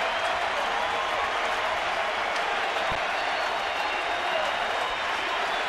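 A sellout baseball stadium crowd at an evening game applauds and cheers on its feet, a broad, steady roar of clapping and voices filling the space throughout.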